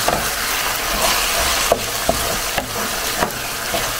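Tomatoes and onions frying in a pan, a steady hissing sizzle with occasional sharp clicks of a utensil stirring against the pan, close and continuous without any talk.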